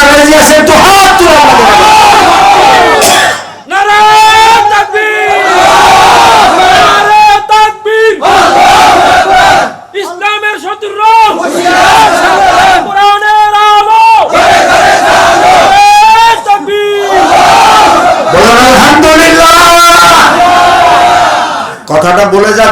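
A large crowd at an open-air Islamic sermon gathering answers the Nara-e-Takbir call with loud, repeated chants of Allahu Akbar, rising in rhythmic waves with brief pauses between them.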